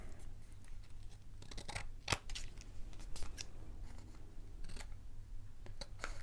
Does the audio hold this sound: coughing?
no